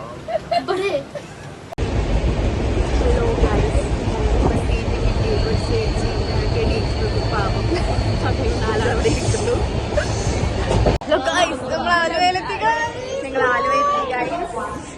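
Loud rumbling of a moving train carriage, a steady heavy roar with crowd chatter, followed by quieter close-up talking once the noise drops.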